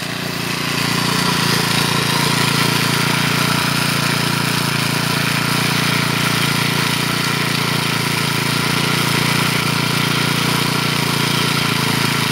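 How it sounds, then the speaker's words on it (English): A Troy-Bilt 4-cycle string trimmer engine idles steadily and loudly throughout, its head spinning continuously without slowing, a constant mid-pitched motor drone with no talk. "That idle needs to be adjusted."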